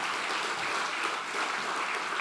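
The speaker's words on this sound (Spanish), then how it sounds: "Dale un aplauso fuerte a nuestro Dios." Church congregation applauding together during a Spanish-language Easter service, a steady, dense wash of many hands clapping at full level throughout, with no voices heard over it.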